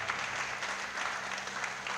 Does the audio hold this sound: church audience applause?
yes